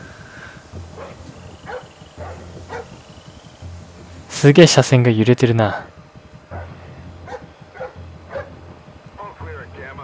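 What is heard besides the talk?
dog barking in video game Splinter Cell: Blacklist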